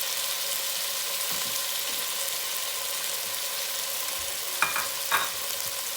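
Finely chopped onion sautéing in olive oil gives a steady, even sizzle across the whole stretch, with a couple of brief utensil scrapes or clinks near the end.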